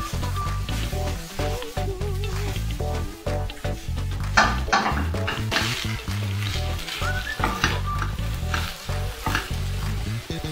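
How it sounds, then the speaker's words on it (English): Vegetables for broccoli chicken lightly sautéing in a pan, a continuous sizzle broken by frequent stirring and clattering of utensil against the pan, near and steady, no voices. "I'm not going to fry or saute all of my veggies too much, just little bit saute"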